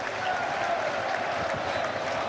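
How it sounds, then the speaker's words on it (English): Dense, steady roar of a football crowd at a Wrexham v Charlton Athletic match, a continuous wash of cheering and chanting with no break, loud and close throughout. "The crowd's making wonderful, wonderful noise, and they have been for the last half hour or so"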